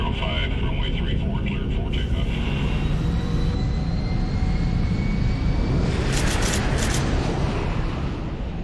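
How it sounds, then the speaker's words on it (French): A hijacked, refuelled airliner takes off with a loud, continuous jet engine roar and broadband rumble that holds steady throughout, with a rising whine layered on top and no clear talking. "L'avion est ravitaillé en carburant et autorisé à décoller."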